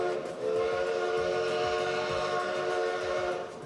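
A steam locomotive on a coastal railway sounds its traditional whistle, a loud sustained chord held for over three seconds over the low rumble of the train.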